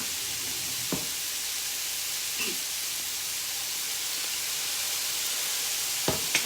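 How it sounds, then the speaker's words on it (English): A fajita mixture with lime juice and fajita seasoning is stirred in a pan, giving a faint, steady sizzling hiss broken by three soft clinks of a utensil against the pan. "So stir all that together."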